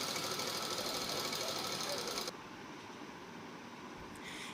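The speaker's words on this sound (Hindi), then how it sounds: "अब यहाँ पे सिलाई लगा देंगे।" An electric sewing machine stitches lining onto a baby suit sleeve in a fast, even mechanical whir that runs loud for about two seconds, then drops to a quieter hum.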